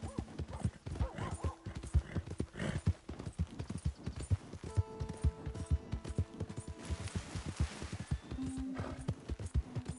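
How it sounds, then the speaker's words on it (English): Steady clip-clop of horse hooves trotting in Red Dead Redemption, with a horse's whinny partway through, plus faint background tones and ambience. "My horse!"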